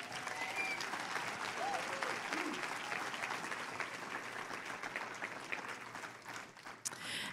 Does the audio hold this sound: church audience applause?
yes